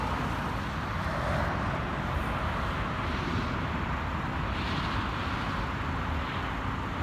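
A steady broadband rumble of a newly bought car driving on the road, with constant engine and road noise plus some wind, filling the whole stretch at an even level with no talk.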